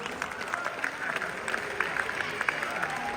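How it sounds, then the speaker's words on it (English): An audience at a bodybuilding competition gives a round of applause, steady crackling clapping with some crowd noise, heard from a middle distance at moderate loudness. "And ladies and gentlemen, a huge round of applause."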